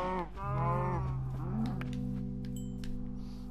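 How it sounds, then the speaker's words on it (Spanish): Cow lowing in a desert setting within a video game: one long, deep moo that rises and then flattens into a sustained drawn-out tone, clear and close, with no talk. "Una vaca aquí en el desierto, tío."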